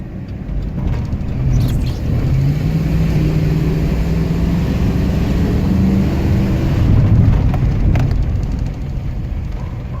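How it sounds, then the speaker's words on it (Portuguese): Chevrolet Suburban V8 engine revving hard under acceleration, a steady loud low rumble with rising pitch that holds throughout without talk. "Sobe bem forte, como um bom V8 tem que subir"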